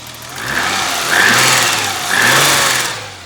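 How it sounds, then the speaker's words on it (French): A serviced BMW six-cylinder engine runs close by at a steady idle, then revs up twice in smooth, loud swells that each rise and fall back, with nobody speaking. "Le meilleur son, c'est celui du 6 cylindres BMW."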